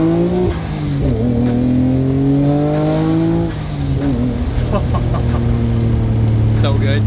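Nissan Skyline R33 GTR engine revving: a loud, close, rising and falling engine note with repeated throttle blips, steady throughout.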